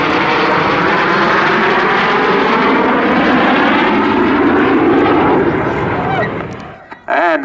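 Two display aircraft roar past at an airshow in Southport, a loud, close, sustained engine rumble that swells and then fades quickly as they pull away, with a commentator's voice over the noise.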